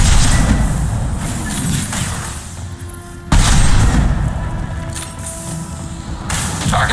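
Heavy gunfire and booming blasts from a Mass Effect 2 combat scene, dense and loud throughout with a sharp burst of impacts midway and sustained rumbling under it.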